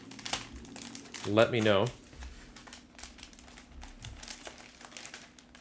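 A plastic bag holding a comic book mail order crinkles and rustles briefly near the mic in one short loud burst, with someone talking around it against a quiet background hum.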